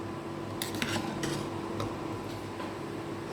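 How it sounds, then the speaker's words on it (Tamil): Metal scraping and light clinks of a utensil stirring rice in a pot of mutton biryani, a steady low hum of cooking underneath. "லைட்டாக ஒரு கிண்டிக்கலாம்,"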